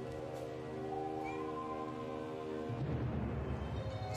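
A cat purrs softly and steadily up close, with a low rumbling that grows rougher and stronger toward the end, alone in a quiet house.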